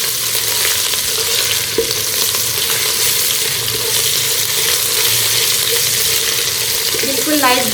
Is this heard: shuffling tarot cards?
no